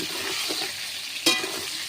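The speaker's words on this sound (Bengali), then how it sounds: "একটু নুন আর একটু হলুদ দিয়ে আলুগুলো একটু ভেজে নেব" Potatoes frying in oil with salt and turmeric, a steady close sizzle with one brief sharper crackle partway through, no voices.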